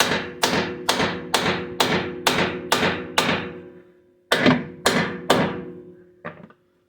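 Ten sharp metallic hammer strikes on the suspension of a 1991 Honda Civic in a steady rhythm, a brief pause after the seventh, then three more and a lighter final tap, ringing slightly, close by.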